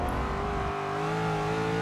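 A race car engine in Forza Motorsport 6 revs hard and steady, a loud sustained whine with a slight pitch rise as the car accelerates, with no speech.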